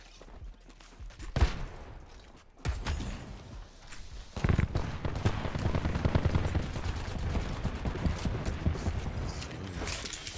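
Shotgun and other gunfire in Apex Legends, with sharp, loud blasts early on and then a dense, continuous stretch of firing and action sounds, mixed with footsteps and mechanical clatter.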